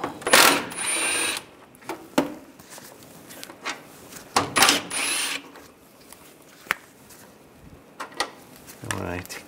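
Screws on a 2011-2018 Ram 1500 fog light assembly being removed with a 10 mm socket ratchet, giving short bursts of clicking and whirring separated by quiet gaps and brief knocks.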